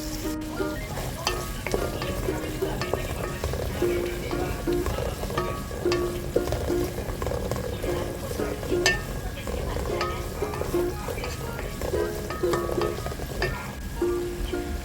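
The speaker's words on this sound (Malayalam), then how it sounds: "നമ്മളിങ്ങനെ ഇളക്കിക്കൊണ്ടിരുന്നാലാണ് നല്ല രീതിയിൽ കുക്കാവുക." Onion sautéing in a pan for king fish biryani, loud continuous sizzling and crackle with constant stirring scrapes, close and busy throughout.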